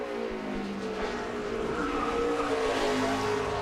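A NASCAR Cup race car at speed during qualifying for the 2007 Toyota/Save Mart 350 road-course race, its engine roaring steadily and loudly through the esses with the pitch shifting as it shifts gears and works through the corners.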